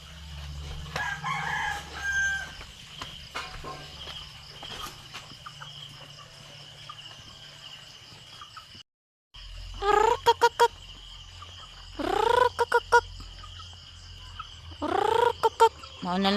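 A rooster crows several times in a yard, with loud, rising-and-falling calls that repeat near the end. Other fowl noise and a steady background hum sit under the calls, and there is a brief silent gap partway through.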